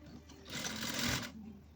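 A sewing machine stitches a pocket onto a salwar in one short, whirring burst of rapid needle strokes lasting under a second. Quiet room tone comes before and after it.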